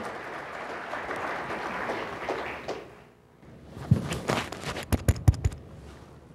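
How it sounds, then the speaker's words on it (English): At a marketing and engineering talk, an audience gives a brief round of applause that fades out after about three seconds. Near, sharp knocks and thumps follow, like a microphone being handled or someone moving about. "Give them a round of applause"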